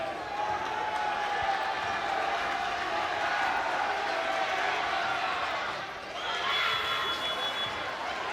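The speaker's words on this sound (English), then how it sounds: "The crowd is getting after him for that free throw." A basketball crowd with a student section in a high-school gym keeps up a loud, steady roar around a free throw, with a brief dip near the end before the noise swells again, and commentators talk over it.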